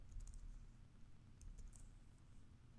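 Faint, quick clicking of keys on a computer keyboard as a short Linux terminal command is entered, close and quiet over a low background hum.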